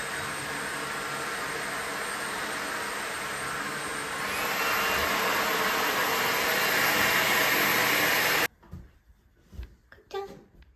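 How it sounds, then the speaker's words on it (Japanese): A household vacuum cleaner runs with a steady loud roaring whoosh for about eight seconds, then cuts off abruptly, leaving faint thumps and room sounds. "掃除機かけるよ。"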